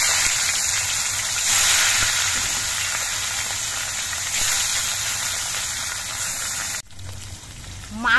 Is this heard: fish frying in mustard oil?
yes